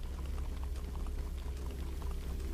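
Indoor water fountain in the Minecraft Story Mode game, a steady bubbling, splashing trickle of running water that holds at an even level throughout, with no voices over it.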